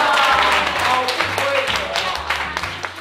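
A group claps during a cement plastering demonstration, scattered bursts of applause mixed with a voice speaking over them.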